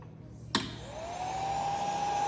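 An LED UV curing machine for hardening oiled wood switches on with a sharp click, then a fan-like whir climbs in pitch and settles into a steady, close hum.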